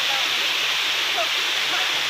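A village waterfall fills the air with a loud, steady roaring rush of falling water. The sound is continuous and unbroken, with no distinct voices standing out.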